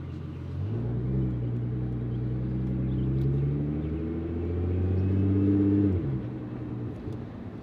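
A 2013 Nissan GT-R engine drones steadily while driving, rising in pitch as it accelerates through gears, then dropping at a shift; loud, close and continuous, no talking.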